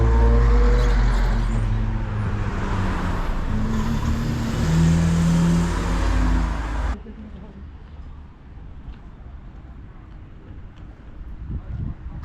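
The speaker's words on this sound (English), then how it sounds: "There's cars just coming on my left side like it's normal." Cars drive past close by on a road beside a demilitarized buffer zone, a steady loud rush of engine and tire noise for about seven seconds that then cuts to quieter wind-like ambience with a faint vehicle swell at the end.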